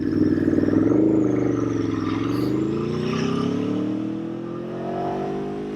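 An Aprilia Tuono motorcycle rides along with a smooth engine note that rises and falls as the rider changes speed. Its moderately loud drone is accompanied by faint wind noise, with no talking.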